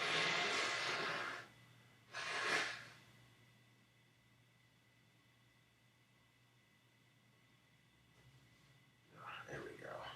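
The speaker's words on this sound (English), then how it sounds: "I could blow my nose off camera." A person blows their nose off to one side, two short, breathy, noisy bursts a second apart, followed by quiet room tone and then a faint rustle.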